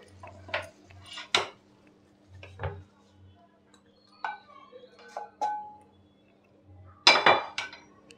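Cooked pineapple is scooped from a pan into a dish, with scattered clinks and scrapes of a spoon against metal, a few louder knocks, and soft low thuds between them.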